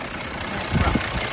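A 1989 late-model Toyota Land Cruiser 60 with manual transmission idles with a steady low rumble nearby, with a slight surge partway through.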